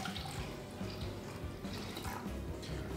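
Warm water is poured into a blender holding dried apricots, a quiet trickling, splashing flow that runs steadily for a few seconds at close range without talk.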